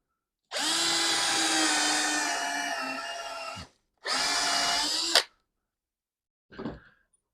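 A power drill driving screws into wood whirs steadily for about three seconds, stops, then runs again in a shorter burst; a brief mechanical clatter follows. Close and loud, no talking.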